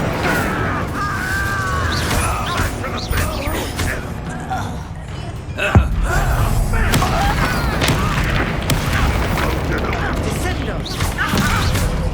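Confringo fire-blast spell cast in the Hogwarts Legacy video game, heavy booming impacts and crashing bursts over a dense rumbling game mix, with a sharp loud hit near the middle.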